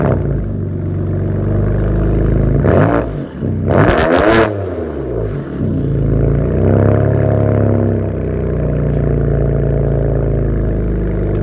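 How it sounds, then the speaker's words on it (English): A car with a straight pipe exhaust and resonators starts and idles loudly close by, with a few sharp revs in the middle before it settles back into a deep, rumbling idle. "I'm just gonna start up the car and hopefully you guys can hear it."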